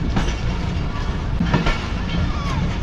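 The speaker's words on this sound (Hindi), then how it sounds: "ये CNR कोच प्लेटफॉर्म नंबर 7-8 की लाइन से जो आ रहा है" A CNR coach rolls along the platform 7–8 line at Karachi Cantt station after a derailment. Its wheels make a close, dense rumble with clacks and thin squeals, and faint voices murmur in the background.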